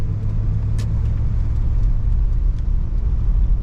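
A 1971 Cadillac Deville cruises steadily on a test drive, its engine and road noise forming a continuous low rumble close inside the cabin, with no one talking.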